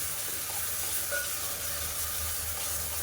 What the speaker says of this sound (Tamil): இதை சேர்த்துட்டு நல்லா எண்ணெய் பிடிச்சி வர அளவுக்கு வதக்கிக்கலாம்